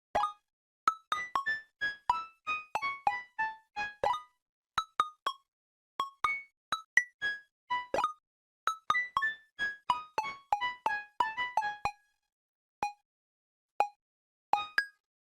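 A bright, plucked synth melody of short, clean notes rising and falling in quick phrases, each decaying fast into silence, alone and fairly quiet.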